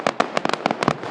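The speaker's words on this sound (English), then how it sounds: "These are like Class A fireworks." Class A consumer fireworks going off in a rapid irregular volley of about nine sharp bangs within a second, loud and close, with no voices over them.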